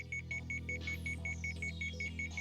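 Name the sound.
heart-rate alarm sounding in the video game Sweet Fuse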